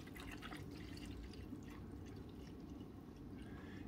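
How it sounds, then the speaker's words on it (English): Water poured from a coffee pot into the reservoir of a Walmart Mainstays 12-cup programmable coffee maker, a steady, faint trickling splash lasting a few seconds with no talk. "Coffee pot pours pretty good."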